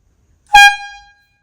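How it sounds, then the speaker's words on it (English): A single loud AirZound air horn blast for e-bikes and e-scooters, sharp onset and a bright brassy tone that holds briefly then tapers off, alone against silence. "It sounds like those sports air horns. It is super, super loud."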